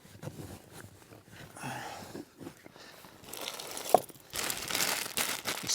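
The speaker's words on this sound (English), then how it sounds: "A spare plastic bag," A spare plastic bag crinkles and rustles as it is handled during sea kayak packing, with irregular close-up crumpling that grows louder toward the end.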